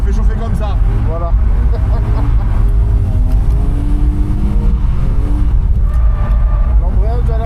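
A drift car's engine runs steadily up close while being warmed up on a track, with a continuous rumble and shifting revs under someone talking throughout.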